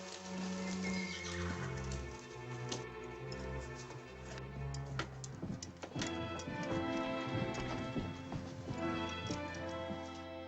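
A horse whinnies clearly early on while its hooves clip-clop steadily, with ticking metallic knocks and shifting background noise through the scene.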